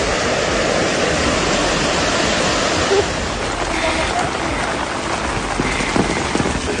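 Heavy storm rain in Bergheim, west of Cologne, Germany, pours down as a dense, steady roar, with water rushing constantly and faint sharper impacts here and there.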